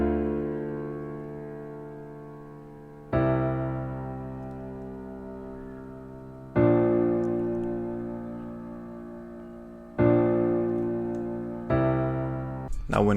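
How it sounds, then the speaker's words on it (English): Simple chord progression moving from the one to the seven to the six and back to the seven, four sustained chords struck one after another, each ringing and slowly decaying, played alone without talk. "I just laid down a simple chord progression going from the 1 to the 7 to the 6 and back to"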